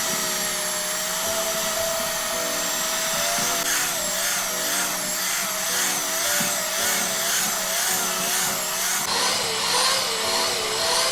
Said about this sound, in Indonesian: Lalu kita akan mixer dengan speed medium selama 10 menit ya, atau sampai dia hampir kalis.